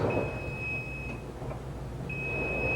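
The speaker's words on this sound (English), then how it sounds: "our timer is almost up" A kitchen oven timer goes off at the end of a cheesecake's 55-minute bake, giving a steady electronic beep tone that sounds for about a second, stops, then starts again, over a low room hum.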